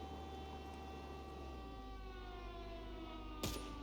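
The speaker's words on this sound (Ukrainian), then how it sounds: "Тривога! Повітряна тривога!" An air raid siren wails steadily in the game Contraband Police, a long sustained tone with rising harmonics that holds throughout, broken by a brief sharp burst near the end.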